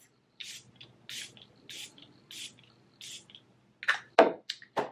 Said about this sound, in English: I'm going to go ahead and spray my face.